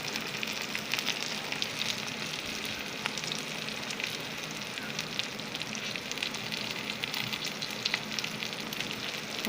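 Dry fish with garlic-ginger paste fries in hot oil, giving a dense, steady, close crackling sizzle with faint stirring and no voices.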